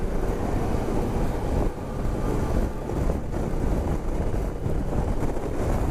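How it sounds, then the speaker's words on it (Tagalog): Steady, loud wind buffeting a microphone while riding upright on a motorcycle, a continuous broadband roar with gusty fluctuations and no speech. "Mahangin."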